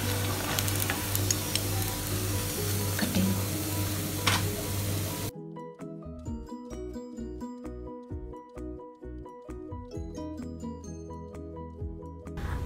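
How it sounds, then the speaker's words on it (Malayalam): Chicken cutlets shallow-fry in a pan with a continuous hiss and crackle of oil, first dense and steady, then changing to a more broken, intermittent sizzle with scraping and stirring sounds. "ഓരോന്നായിട്ട് വറുത്തു പോരാ."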